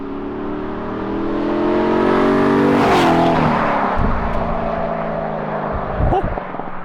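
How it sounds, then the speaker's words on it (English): A V8 sports car from a C6 Corvette Grand Sport and Porsche 928 S4 pairing does a flyby outdoors. The exhaust swells as it approaches, peaks loudly as it passes, then drops in pitch and fades away. "we're gonna do a little flyby clip of both these cars so you guys can get in a little exhaust note"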